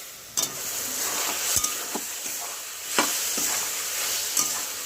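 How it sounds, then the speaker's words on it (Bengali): Mutton fat with salt sizzles in a pan while a utensil stirs it, producing repeated sharp scraping clicks over a continuous frying hiss. "নেড়ে চেড়ে চার থেকে পাঁচ মিনিট সময় নিয়ে কষিয়ে নেব"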